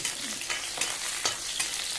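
Steady crackling sizzle of shallots frying in hot oil, with soft pops and no voices.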